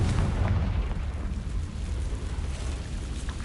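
A Confringo blasting spell explodes in Hogwarts Legacy, a loud rumbling boom that fills the moment and then rolls into a sustained, crackling roar.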